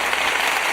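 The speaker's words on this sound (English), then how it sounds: "we didn't clap for Leah. So here you go, Leah. This is for you." Brief burst of audience applause for a podcast speaker, dense steady clapping heard alone for under a second.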